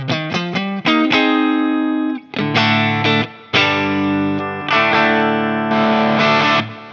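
Electric guitar runs through a Fractal FM3 Plexi preset modeled on a 1959SLP Treble Marshall, giving a crunchy, distorted tone: quick picked notes, then sustained chords that ring and are cut off, loud and close.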